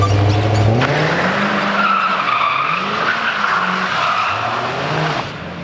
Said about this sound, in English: We're gonna have him drift it, just for you guys.